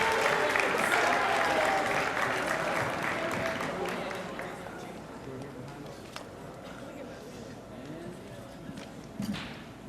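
Audience applause at an 8th grade school awards ceremony, loud and sustained at the start then gradually thinning and fading over about ten seconds, with scattered voices and a brief burst near the end.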